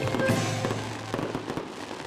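Fireworks at Chinese New Year celebrations pop and crackle in a rapid scattered burst, with sharp bangs fading into a softer distant rumble.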